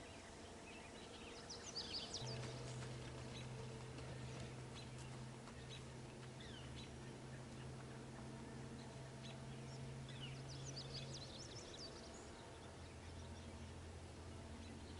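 Birds chirp faintly in bursts over a quiet early-morning outdoor hush, with a low steady hum beneath during a run on cold ground.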